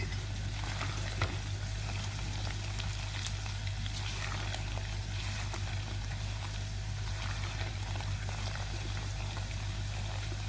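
Semolina roasting in a pan for suji halwa, a steady soft sizzle and gentle scraping of a spoon stirring continuously, close and even throughout with a low hum beneath.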